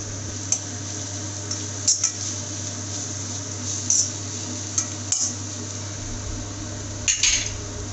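A spoon mixing gram flour omelette batter with turmeric, chili and pepper in a bowl, soft wet squelching with a few light clinks of metal against the bowl over a constant low hum.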